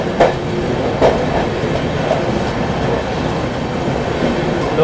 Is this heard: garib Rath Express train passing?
yes